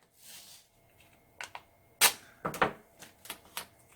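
Masking tape is pulled and pressed down to cover glitter on a craft piece, producing several short, sharp ripping and crackling bursts scattered over a few seconds in an otherwise quiet space.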